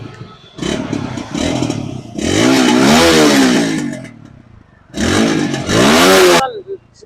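An Apache RTR 200 4V motorcycle with a silencer problem revs loudly in two bursts, rising and falling, with rattly engine noise in the quieter gaps and someone talking briefly nearby.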